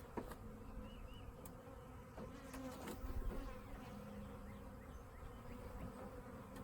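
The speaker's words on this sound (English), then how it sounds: "there's actually a wasp down in my hive." Bees and a wasp buzz inside a beehive, a steady faint hum with a few sharper passing buzzes, close up and without talk.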